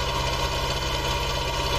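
A farming video game tractor with a David Brown plough on the back and front loader brackets idles in a steady, even, low rumbling drone, close and continuous with no talking.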